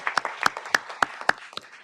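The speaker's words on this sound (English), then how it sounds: "first of all, a round of applause for you guys" A small group gives a short round of applause at a city council session, with scattered distinct claps spaced fairly evenly over about two seconds and nothing else heard.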